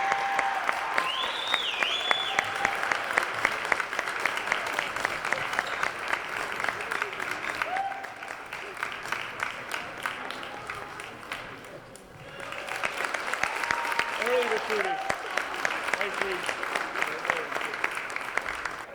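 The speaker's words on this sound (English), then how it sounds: "Let's give a round of applause" A crowd at a high school girls' basketball game claps steadily and loudly, the applause dipping briefly midway before swelling again, with cheers and whoops rising above it.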